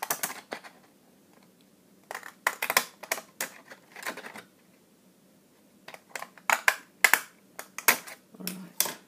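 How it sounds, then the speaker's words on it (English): Close, crisp snipping and crunching of paper being cut in irregular bursts, with quiet pauses between runs of cuts. "I'm just going to go ahead now and just cut off using my decorative scissors"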